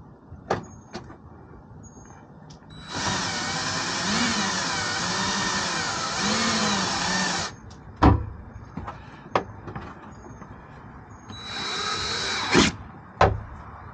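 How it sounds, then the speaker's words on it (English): A power drill with a half-inch bit bores through a rubber bulkhead on a 2017 Nissan Frontier, a loud steady whine lasting several seconds, then short bursts and clicks as the bit grabs, followed by a second brief run. "And I'm going to use it to drill a hole in this rubber bulkhead."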